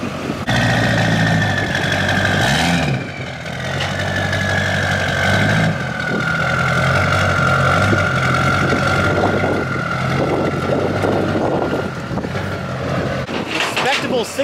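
A Duramax diesel pickup truck engine rumbles steadily at close range, a low continuous drone with a brief shift in pitch partway through; a voice talks over it.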